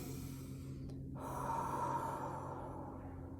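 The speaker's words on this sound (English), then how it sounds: "Okay, blow on these nails. Inhale. Exhale." Slow breaths blown out and drawn in close up, a soft airy exhale swelling in the middle over a steady low hum, with no talking.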